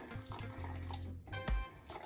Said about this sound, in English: you use a stock cube and add some water, and that's what I'm going to do, some boiling water.